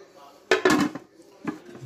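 Melamine dinner-set dishes being handled, two bursts of hard clattering and knocking as pieces touch one another, close and fairly loud against near silence.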